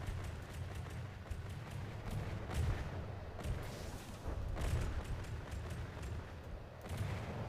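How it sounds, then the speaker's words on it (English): Heavy guns firing in a From the Depths naval battle, a steady barrage of deep booms and rumbling blasts repeating every second or so over continuous low battle noise, with no voices. "That gun knows how to deal damage, that's for sure."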